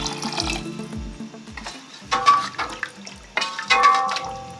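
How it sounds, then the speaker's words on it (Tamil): Water poured into fish curry masala, a Kongu-style village meen kulambu, splashing and trickling into the pan in two or three short bursts over a steady low rumble of cooking. "இது இந்த ஸ்டேஜில் நம்ம இதில் கொஞ்சம் தண்ணி ஊற்றிக்கலாம்."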